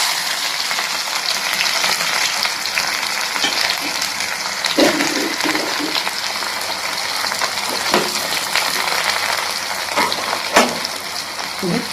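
Chopped onions fry in a pan with mustard seeds for an okra buttermilk curry, giving a steady close sizzle with a few sharp clicks and stirring scrapes throughout.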